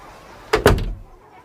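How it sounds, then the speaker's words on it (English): A door shutting: two quick, loud knocks of the door closing against its frame, with a brief rattle after them and nothing else around. "And the woman closed the door."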